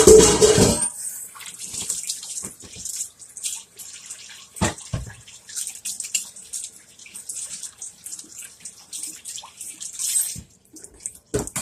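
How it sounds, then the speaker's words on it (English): Tap water runs and splashes intermittently as hands are washed under a kitchen faucet, with bursts of splashing separated by quieter gaps and no talk. "I'm going to wash my hands."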